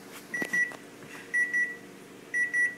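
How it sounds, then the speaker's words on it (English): Kitchen timer going off at the end of a 60-minute boil of homebrew wort: three pairs of short, high electronic beeps spaced about a second apart, clear over faint room hiss. "Oh, that's the timer."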